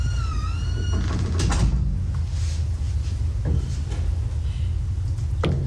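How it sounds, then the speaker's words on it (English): A fingerprint smart lock on a home door gives a short series of electronic beeps, followed by a few separate mechanical clunks and clicks as the door is opened, all close by and without talk. "I'm able to open my door easily just using my fingerprint"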